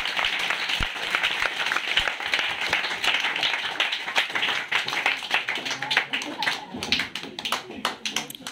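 Clapping from a group at a cricket coaching centre's final match trophy celebration, continuous and lively, with voices talking over it throughout.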